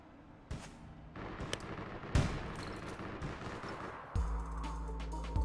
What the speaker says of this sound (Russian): Я тут моментами вообще не понимаешь, откуда в тебя стреляют.